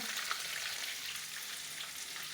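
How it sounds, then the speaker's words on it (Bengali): Chicken leg pieces fry steadily in hot oil, a dense, continuous sizzle and crackle held close and even throughout, with no voices. "এটা আমার বেশ চিকেন পিস ফ্রাই করছি"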